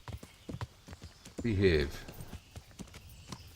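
Horse hooves clip-clopping in the Kingdom Come: Deliverance video game, a regular run of distinct hoof strikes at walking pace, joined midway by a short horse whinny and a brief spoken word.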